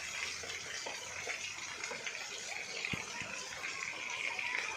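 Water gushing forcefully as a container or tank fills to the brim, a steady broadband rush with scattered splashes and faint knocks, close by and continuous.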